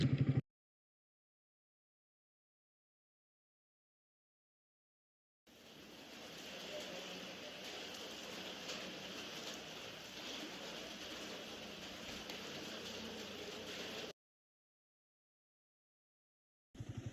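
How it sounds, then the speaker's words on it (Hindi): Steady, dense hiss of heavy rain pouring on a road trip in India, lasting several seconds, framed by silence before and after, with only a faint blip of sound at the edges. "यहाँ पे बारिश हो रही है खतरनाक वाली।"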